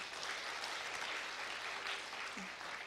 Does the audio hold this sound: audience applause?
yes